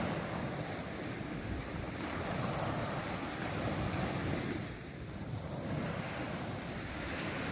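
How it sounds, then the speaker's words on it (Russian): Sea waves wash against a night-time embankment at Arkhipo-Osipovka in a steady, loud surf roar that swells and eases gently, with wind buffeting the microphone and no voices. "Ну, вот такое вот море."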